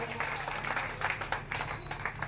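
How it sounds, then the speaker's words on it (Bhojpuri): An audience applauds a guest on stage at a welcome event, steady mid-level clapping from a crowd with light crowd murmur, a little distant and even throughout. "जोरदार ताली बजाकर सर का सम्मान कर दिया जाए।"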